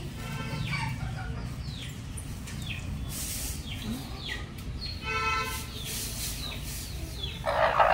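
A broody desi hen clucks in soft, repeated calls while settling onto a clutch of eggs, with a steady low background hum and a brief louder rustle near the end.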